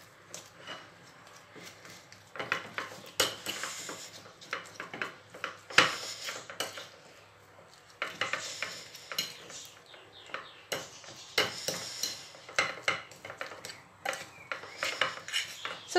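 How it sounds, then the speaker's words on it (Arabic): Potatoes mashed and mixed with cheese, oil and spices in a bowl, with a utensil scraping and knocking against the bowl in irregular bursts for a sustained stretch, close and moderately loud. "وغادي نخلط مزيان مع هاد الفرماجه والزيت"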